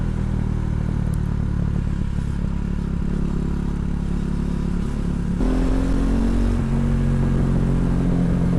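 A KTM Duke 390 motorcycle engine drops in pitch on a downshift, then settles to a lower steady hum, all under steady wind rush heard up close from the rider's position.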